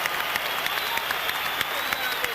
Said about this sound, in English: let's have a round of applause for these 2 heavyweights